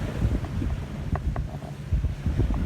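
Sea wind at a beach blowing across the microphone in low, buffeting gusts, with faint surf beneath and no talk.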